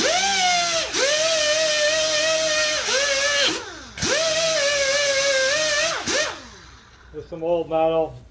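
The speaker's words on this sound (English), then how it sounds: "just using one of these cookie wheels on the grinder to clean it up" A corded angle grinder fitted with a wire cookie wheel whines steadily while cleaning old metal before spot welding, its pitch dropping and recovering with each pass and pause before it spins down near the end.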